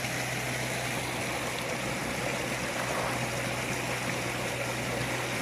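A water-powered Bunyip pump pushes water through a 4-inch supply pipe against roughly a 24-metre head, giving a steady rushing, trickling wash with a faint low hum, continuous and even.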